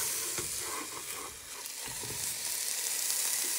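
Thai meatballs fry in a pan, giving a steady, soft sizzling hiss with a few faint clicks and scrapes as they are turned.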